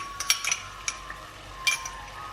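Ginger garlic paste and red chilies are stirred in a pan, giving a few sharp metallic scrapes and clinks of a utensil against the pan over a faint background, with no talk.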